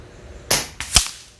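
A .25 FX Avenger air rifle firing 25.4 grain pellets: two sharp, loud pops about half a second apart, the second with a stronger low thump, in an otherwise quiet outdoor setting.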